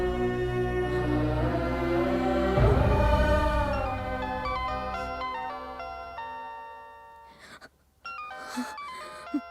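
A phone ringtone plays a bright, repeating electronic melody of stepped tones, fairly loud and close, ending with a few scattered knocks.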